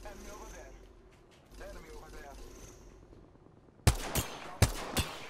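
Gunfire in Apex Legends: a few sharp, loud shots in quick succession near the end, after a stretch of quieter voices talking.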